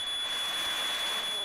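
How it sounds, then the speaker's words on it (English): A continuous electronic smoke alarm blares in The Sims video game, a steady high-pitched tone sounding loud and unbroken throughout. "Well, at least we have an alarm."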